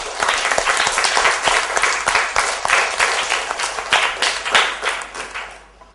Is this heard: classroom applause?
yes